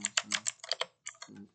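A short burst of rapid typing on a computer keyboard while entering a label, crisp close keystrokes in quick succession with a brief pause before a last few taps.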